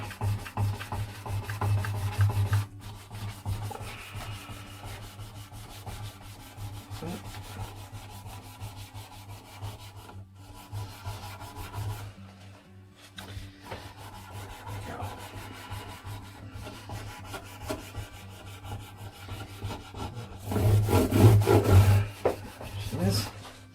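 Lemon oil is rubbed into the wood of a 1970s acoustic guitar with a cloth, making steady, close, repetitive rubbing strokes that grow louder near the end, with almost no talking.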